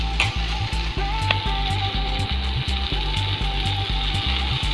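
Tomato juice poured into a hot pan for an egg and drumstick gravy, sizzling steadily with a constant bright hiss and a regular low rhythmic knocking underneath.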